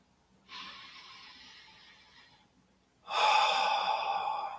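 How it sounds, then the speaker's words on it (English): Two slow, deep breaths taken in calm meditation, first a softer drawn-in breath, a brief gap, then a fuller, louder breath close to the microphone, with no talking. "take a few deep breaths."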